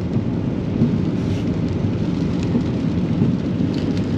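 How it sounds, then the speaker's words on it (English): Rain falls during an evening walk along a river in Kajaani, Finland, a constant, fairly loud hiss and rumble with no voices over it. "It's raining."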